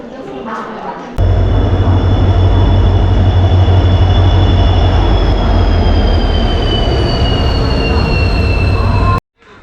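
A train pulls into a station platform with a loud, constant rumble of wheels on rails and high metallic squealing tones. The noise ends abruptly near the close.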